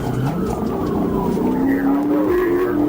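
A fleeing car tears through narrow residential streets at high speed during a police chase, engine whining loud and continuous with rising tones and tire squeal layered over the roar.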